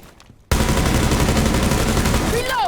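Automatic gunfire in the tactical shooter Rainbow Six Siege bursts in suddenly after a quiet moment and continues as a dense, loud, rapid stream of shots for about two seconds.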